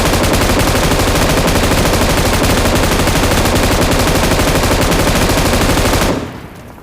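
Sustained automatic gunfire in the PUBG Mobile game, a dense rapid-fire burst that runs loud and unbroken for about six seconds and then cuts off abruptly.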